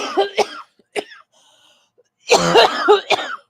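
Several harsh coughs in bursts, with a short quiet gap between them, close and fairly loud.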